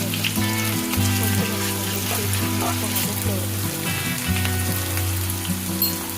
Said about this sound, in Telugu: ఫ్రై అవ్వాలి. ఆనియన్స్ మాత్రం బ్రౌనిష్ కలర్ అయితే రావాలి.